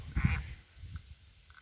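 A duck on a pond gives one short, nasal quack close by, followed by a couple of faint, softer calls against quiet open-air background.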